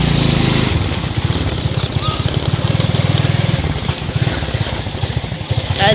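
A motorcycle being ridden gives a steady, loud, throbbing engine drone that runs throughout, with a low rhythmic pulse.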